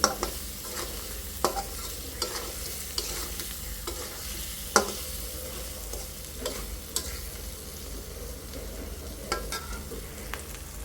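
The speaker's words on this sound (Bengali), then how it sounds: "এই তো আমার মাছটা কষাই উঠে ফেলছি" Fish frying in a pan over a village kitchen fire, a low continuous sizzle with scattered sharp clicks and spatters and occasional utensil knocks, steady and fairly quiet for about eleven seconds with no voices.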